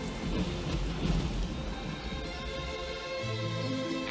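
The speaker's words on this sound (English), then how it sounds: "Then came the rain." Steady rain pours in a scene from the animated film Rock-a-Doodle, a dense continuous hiss with low rumbling underneath, loud and unbroken throughout.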